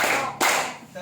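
A group of people clap once in unison during a counting clapping game, a single sharp burst in the middle of the moment with a low murmur of voices before and after.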